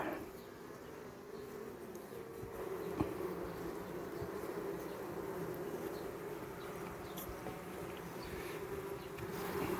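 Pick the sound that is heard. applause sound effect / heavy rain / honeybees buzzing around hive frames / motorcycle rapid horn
honeybees buzzing around hive frames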